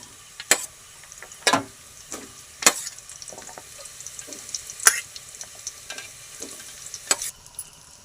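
Bottle gourd pieces land in a frying pan, making a series of sharp scattered clacks and thuds over a soft sizzling background, fairly close and moderately loud.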